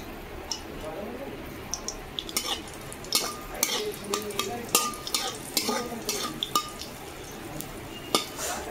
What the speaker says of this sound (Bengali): শুকনো লঙ্কা দিয়ে দেব,